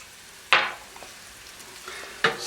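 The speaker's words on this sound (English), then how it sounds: "We'll throw our shallots in and get those going." Garlic and shallots frying in a pan, with a low steady sizzle and two louder bursts as ingredients are added or stirred.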